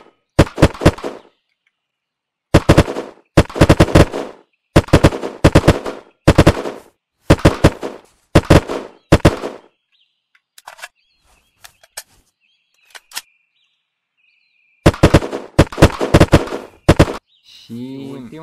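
Bursts of rapid automatic gunfire from Unturned hit bulletproof windows, loud and sharp in several volleys split by silent gaps, with faint tinkling and small impact sounds in between.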